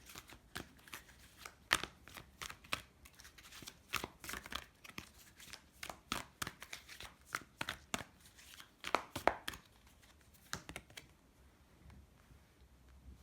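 Tarot cards shuffled and handled close by, quiet repeated riffling slaps and taps in uneven bursts, with no voices.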